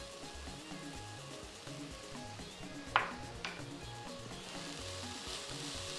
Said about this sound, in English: You can stir, stir, stir.